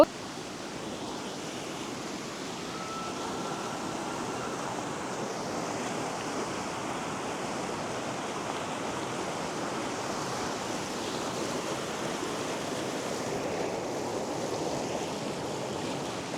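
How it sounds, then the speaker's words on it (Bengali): Cold water of the Isuna river rushes over stones beside a mountain, a dense continuous roar that stays steady and fairly loud throughout with no voices. "ঠান্ডা পানি, এত সুন্দর শব্দ এবং যেই পানি"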